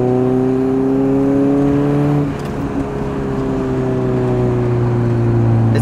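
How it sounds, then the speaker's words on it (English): A Nissan 240SX with blast pipes and a large exhaust leak drones loudly indoors, a steady low rumble with whining tones that dip briefly and then resume. "I'll just let you guys listen to the exhaust right now, even though it's inside, but I have a fat exhaust leak"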